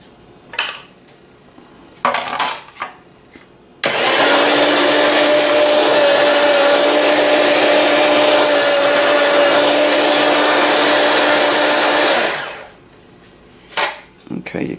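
An electric food slicer cutting a thin slice of apple: a few clicks and handling knocks, then a loud steady motor whir with a faint tonal hum for about eight seconds before it stops abruptly, followed by more light clatter.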